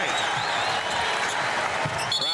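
Indoor basketball arena crowd at a 2002 Eastern Conference Finals game, a steady murmuring roar with scattered shouts and whistle-like tones, heard under a commentator's voice.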